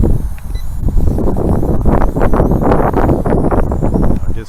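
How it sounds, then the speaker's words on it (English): Wind blowing steadily and loudly across the microphone outdoors while a Syma X15 drone is flown, a continuous buffeting rumble with gusty surges and no talk. "Just wind came up"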